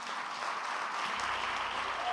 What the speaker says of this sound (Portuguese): Dá um aplauso maior a Jesus